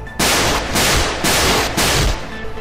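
Rapid automatic gunfire in the video game Raver: Bliss in Bloodshed, loud and close, coming in four sustained bursts separated by brief pauses.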